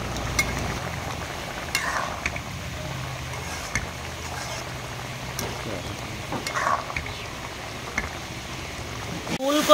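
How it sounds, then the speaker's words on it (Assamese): Cauliflower, carrot and potato fry in a restaurant pan with ginger and garlic paste for a traditional Assamese dish, giving a steady soft sizzle with occasional stirring clicks and scrapes. "এতিয়া ভাজি আছোঁ দেই"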